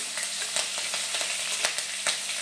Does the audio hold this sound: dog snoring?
no